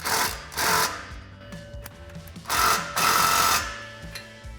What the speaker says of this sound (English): And then we can take our 17mm socket and 15mm wrench to tighten these down.